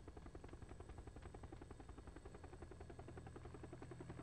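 Helicopter in the video game PUBG, a steady, loud rotor thump with rapid regular blade chop and a droning engine whine that holds throughout, with no talk over it.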